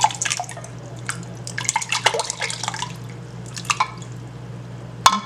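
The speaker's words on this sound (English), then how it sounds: "1 cup of my chicken stock I'm pouring here." Chicken stock pours and splashes into a measuring cup in a home kitchen, with uneven trickles and drips over a low steady hum, ending with a single sharp clink.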